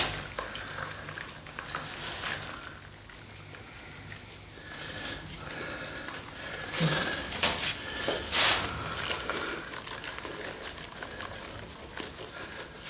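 Plaster slip for a casting mold is stirred and shaken in a container, giving scraping, sloshing sounds that swell and fade over several seconds, with a few sharper knocks midway.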